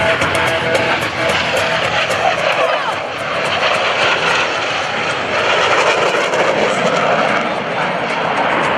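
US Navy Blue Angels jets in an opposing knife-edge pass at an airshow, a loud sustained jet roar that swells and fills the whole stretch while an announcer talks over it.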